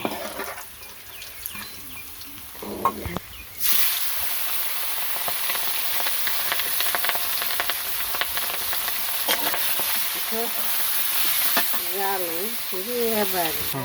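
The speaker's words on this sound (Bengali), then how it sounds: "পেটির মাছ ভাজি করবো, দিয়ে দিলাম" Steady broadband sizzling of fish pieces frying in hot oil, continuous and close, starting after a few seconds of quieter kitchen sounds, with occasional faint clinks.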